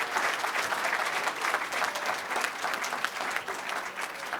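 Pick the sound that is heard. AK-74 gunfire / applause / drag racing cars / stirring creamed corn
applause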